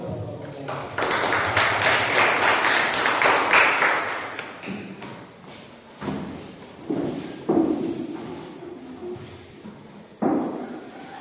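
Applause from a classroom audience after a group's poster project presentation, a broad wash of clapping lasting several seconds, then fading into scattered thuds and taps.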